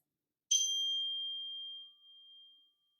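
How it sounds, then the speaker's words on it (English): A single chime struck once, used as a cue in a children's yoga session; a bright, clear metallic ring that sustains and slowly fades over about two seconds, alone in silence. "And I have a chime."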